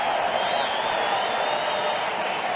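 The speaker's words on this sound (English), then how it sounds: "The crowd comes to life." Crowd at a professional baseball game in a stadium, a sustained, fairly loud wash of cheering and applause that holds steady throughout.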